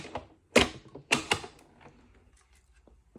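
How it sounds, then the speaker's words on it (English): A die cutting machine for card making runs in short bursts, a few close, sharp mechanical creaks and clunks spaced apart over a quiet background, then fainter rattles as it finishes. "Okay, so we are done with our die cutting here."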